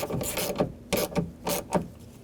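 A ratchet wrench tightens a bolt on the front window regulator of a 2000-06 GMC Yukon, giving several close, rhythmic bursts of clicking pawl strokes with brief pauses between them.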